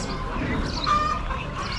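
Hens cluck softly at an Amish animal auction, a brief murmur of fowl set against a busy, noisy room.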